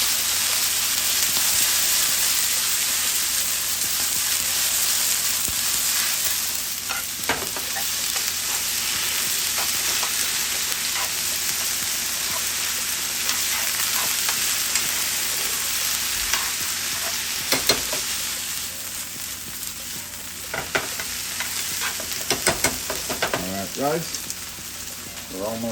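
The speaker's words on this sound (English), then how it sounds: "then we're going to add a handful of spinach. We're going to mix that in." Spinach is stirred into tomato basil pasta in a hot pan, giving a steady sizzle and frying hiss with occasional scraping stir strokes, close up and continuous throughout.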